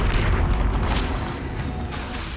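Confringo fire spell exploding in the Hogwarts Legacy video game, a loud, deep booming blast with a rumbling tail and a sharp crackling burst, heard alone without talk.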